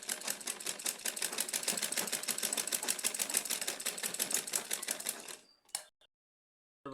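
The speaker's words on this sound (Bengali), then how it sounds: "এখন এর উপর দিয়ে চাপ সেলাই দিয়ে দেব।" A sewing machine runs steadily, stitching down folded piping along a boat neckline, with a fast, even rapid stitch rhythm close up for about five seconds before stopping, followed by a couple of brief clicks and handling sounds.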